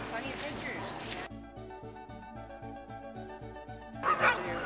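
A puppy yips and barks in short bursts over steady background music, with bits of talk from people nearby.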